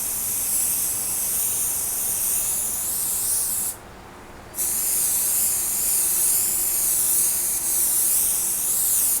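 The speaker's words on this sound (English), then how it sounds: "get my spray basting, and again I'm going to spray half of it" Spray basting adhesive applied to quilt batting, a loud close aerosol hiss in two long continuous bursts separated by a brief pause.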